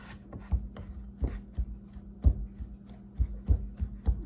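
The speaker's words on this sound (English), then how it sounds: "I'm just blending that in there with the pastry blender, getting all the big chunks of it blended up with the flour." A pastry blender cuts shortening into flour for apple pie crust, making soft rhythmic thuds and scraping strokes against the bowl, close and quiet over a faint steady hum.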